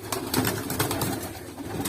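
Manakh pigeons coo steadily and close by, with several overlapping birds producing soft, throaty repeated calls, plus some faint rustling in the background.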